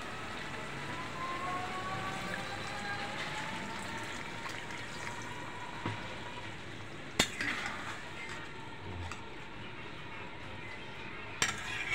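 Bele fish curry simmering in a pan after a little water is added: a steady close sizzle and bubble, with a couple of sharp utensil clinks near the end. No one speaks.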